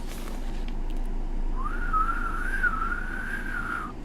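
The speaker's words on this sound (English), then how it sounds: "Learn how to whistle." A person whistles one sustained, wavering note that rises slightly and holds for about two and a half seconds, clear and close, after a brief stretch of quiet room noise.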